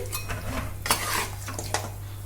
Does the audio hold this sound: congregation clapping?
no